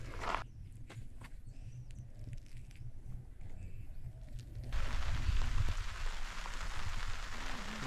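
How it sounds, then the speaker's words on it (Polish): Heavy rain drums on an umbrella beside a lake at night during a fishing trip for tench and bream. It is a dense, steady patter that grows louder and fuller midway, with scattered close impacts and no talking. "Jak widać, pod parasolem leje jak diabeł."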